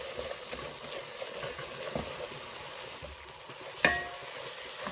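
Kachata batter stirred and scraped in a hot pan, with a steady close sizzle and soft scraping throughout and one sharper knock near the end, no voices.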